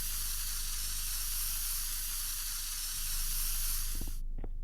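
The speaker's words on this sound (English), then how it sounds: "I think we use the spray." Deodorant aerosol hisses steadily into smelly shoes in one long, close, continuous spray that cuts off abruptly near the end, followed by a couple of faint taps.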